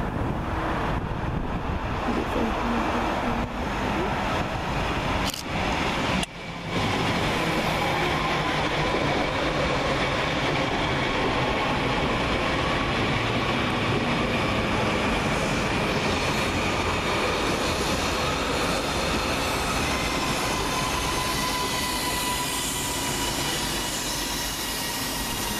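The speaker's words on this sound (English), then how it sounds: "Next up is the return of 331013 and 331014, working the 1554 Northern Rail service from Liverpool Lime Street to Wigan North Western." Northern Rail class 331 electric units 331013 and 331014 passing Broad Green station, a sustained loud rushing rumble of the train going by with wind buffeting the microphone, steady for the full length.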